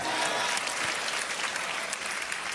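Applause from a church congregation giving praise to God, a dense steady wash of many hands clapping at moderate loudness without a break.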